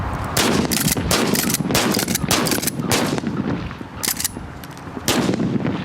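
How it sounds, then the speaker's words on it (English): Loud, close bursts of gunfire, rapid shots fired in quick succession with brief pauses between volleys. "Fire! Gunfire!"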